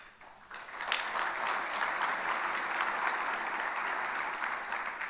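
An audience at a 2018 State of the City address applauds; the clapping swells quickly from a quiet start into sustained, even applause that lasts several seconds with no talking.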